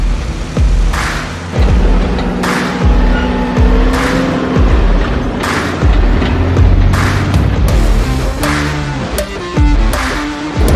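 ATVs driving on dusty dirt trails at Kualoa Ranch, Hawaii: loud, close engine roar that revs and surges repeatedly, with bumps and thuds as the vehicles bounce along.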